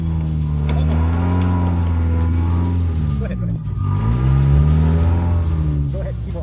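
A Chinese Jeep engine revs and accelerates out in the desert, a loud, steady mid-pitched drone that rises and falls in pitch, with a brief dip in the middle before climbing again.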